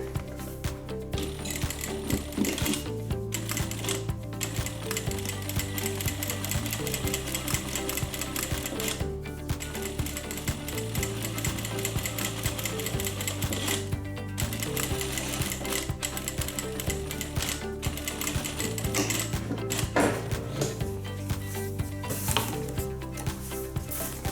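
A sewing machine top stitches a zip-around long wallet at a 3.5 stitch length, running in a steady rapid mechanical chatter with short pauses and restarts, close and alone with no talking.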